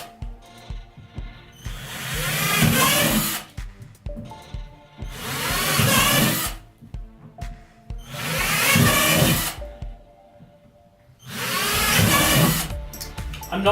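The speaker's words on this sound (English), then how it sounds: "I'm just trying to drill enough holes that, you know, most of the water should drain" A power drill bores holes through a plastic worm bin in four loud, sustained bursts of whining and grinding, each a few seconds long, separated by short pauses.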